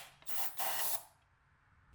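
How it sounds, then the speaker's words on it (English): Brake cleaner sprayed from an aerosol can onto a BMW E36 engine head, heard as two short hissing bursts close by, followed by quiet. "So make sure you can spray with brake cleaner."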